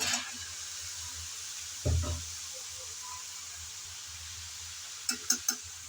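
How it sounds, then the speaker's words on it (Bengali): Bottle gourd frying in oil in a pan gives off a steady, quiet sizzling hiss, with a soft stirring knock near the start and a quick cluster of utensil clinks near the end. "লাউটা দিয়ে নেড়ে চেড়ে ভালো করে একটু তেলের মধ্যে ভেজে নেবে প্রথমে"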